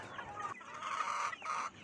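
Chickens cluck and squawk close by in short, quiet bursts of hen calls with no talk over them.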